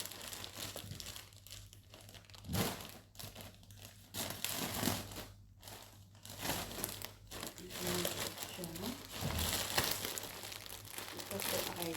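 An online shopping package is opened up close, its plastic packaging crinkling and tearing in loud, uneven bursts while a person talks throughout.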